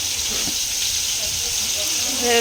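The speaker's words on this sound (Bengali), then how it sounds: "চিংড়ি মাছটা একটু ভালো করে লাল করে ভেজে নিলে পেঁয়াজটার সাথে" Prawns sizzle in hot oil with onion and chilli in a pan, a steady close hiss with faint crackles, and a voice speaks softly underneath.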